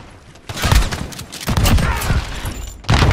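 Gunshots in the video game Call of Duty Modern Warfare, three heavy booming shots spaced about a second apart, loud and close, with brief mechanical clatter between them.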